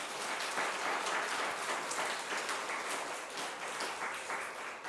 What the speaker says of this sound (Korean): 응원의 박수 좀 부탁드립니다.